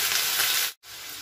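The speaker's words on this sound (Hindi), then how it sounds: "अब हम इसमें मूली डाल लेते हैं जिसे हमने काट कर रखा था इसे अच्छी तरह हम मिक्स कर लेते हैं" Chopped radish frying in a pan gives a steady, close, hissing sizzle that cuts out for a split second and then resumes.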